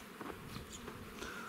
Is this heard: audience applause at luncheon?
no